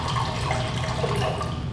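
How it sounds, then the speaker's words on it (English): A cup of water pours steadily into a blender jar in a home kitchen, a continuous close splashing trickle heard alone for under two seconds. "So what I'm going to do is put 1 cup of water into my blender."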